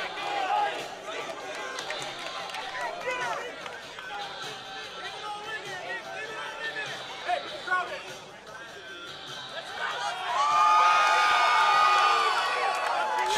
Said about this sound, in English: Hayasan MMA fam in the stands going nuts for Shameek Harvey.